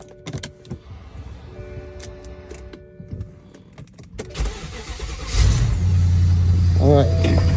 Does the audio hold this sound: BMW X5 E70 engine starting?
yes